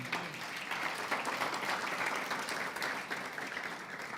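A church congregation claps together in a steady, dense wash of applause that holds at an even level throughout, with no voices rising above it.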